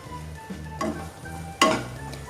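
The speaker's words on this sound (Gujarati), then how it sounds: "આ રીતે દ્રાક્ષ થોડી શેકાશે" Pistachios and raisins roasting in a pan, a low sizzle with two sharp stirring scrapes against the pan, close by.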